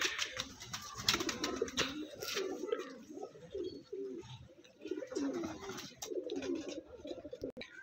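Several pigeons coo in soft, overlapping throaty rumbles close by, with occasional flutters and scuffs mixed in.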